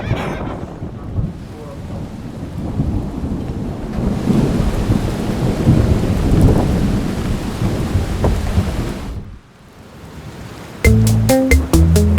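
Storm Dennis batters a campsite with heavy rain and gusting wind, a loud continuous rush swelling and easing with deep rumbles, before a brief lull and a burst of other sound at the end.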